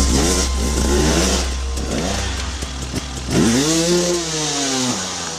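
A toy motocross motorcycle engine revs in rising and falling sweeps, its whiny buzz surging near and loud over a steady low hum, with a sharp climbing rev toward the end.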